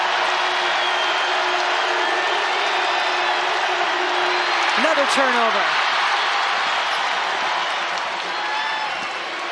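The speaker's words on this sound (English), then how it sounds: "Crowd's starting to get loud." Crowd noise in an arena during a 2023 NCAA women's second-round basketball game between Notre Dame and Mississippi State, a steady broad roar that swells slightly, with a commentator talking over it.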